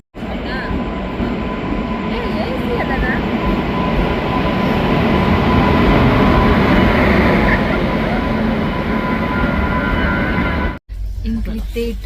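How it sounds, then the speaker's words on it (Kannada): A train rumbles steadily and loudly past a station in Kerala, with a sustained broadband roar and faint rail squeals, cutting off abruptly near the end. "ಟ್ರೈನ್ ಬರೋದುಂಡು"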